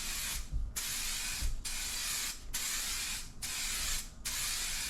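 Clear coat is sprayed from an aerosol can onto a Lexus SC 430 headlight in five or six steady hissing bursts with short gaps between, loud and close, with faint clicks at the pauses and no talking.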